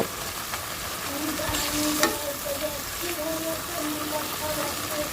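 Fried fish simmering in a pan of sauce, with a steady close bubbling sizzle throughout, a light knock of a utensil now and then, and someone talking over it.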